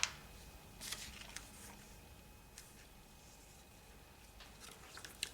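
Paper creased and folded by hand for an origami star puff tessellation, soft crisp crackles and rustles in scattered short bursts, close and quiet.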